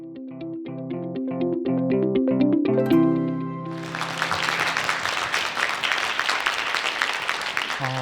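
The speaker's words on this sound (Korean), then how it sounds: "큰 박수로 환영해 주시기 바랍니다" A short musical fanfare gives way to a crowd's loud, sustained applause welcoming a speaker, continuing steadily to the end.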